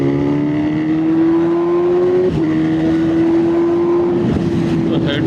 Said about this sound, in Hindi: मैं सोच रहा हूँ कि स्लिप ऑन में इतना लाउड है, आप सुनिए।